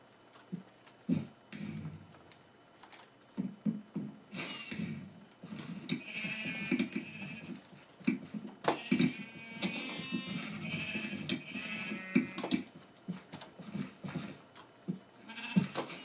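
Sheep in the Minecraft video game bleat repeatedly in short bursts amid clicks and game effects, several calls overlapping at moderate loudness with no talking.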